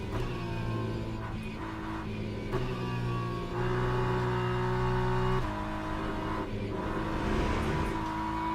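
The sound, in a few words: racing game car driving over curbing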